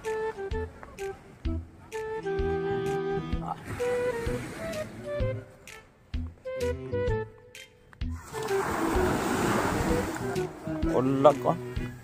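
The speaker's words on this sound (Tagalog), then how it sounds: "medyo malaki ang alon" Big sea waves slosh and crash beside a small boat, with one broad, loud rush of water lasting a couple of seconds, while people talk over the scene.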